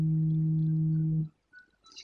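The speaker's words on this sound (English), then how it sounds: "that's my alarm." A steady electronic alarm tone drones loudly for over a second, then cuts off, followed by faint rustling and small background noises.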